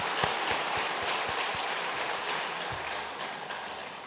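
A church congregation applauds during a Sunday worship service, a soft, steady wash of clapping with a few distinct low thumps near the start, carrying on evenly at moderate distance.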